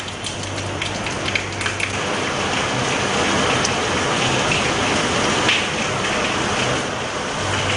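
Heavy monsoon rain pours steadily in Rajahmundry, a dense, even hiss of drops striking surfaces that stays loud and close without pause, with no voices over it.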